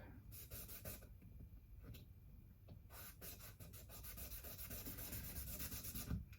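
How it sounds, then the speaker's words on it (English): Close, quiet back-and-forth scratching of sandpaper on a Squier guitar's wood, in short uneven strokes with brief pauses, soft and rhythmic. "Tiny bit more sanding"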